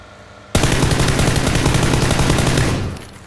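Rapid automatic gunfire in the video game PUBG (Battlegrounds) erupts suddenly in a loud, close, continuous burst lasting over two seconds before trailing off.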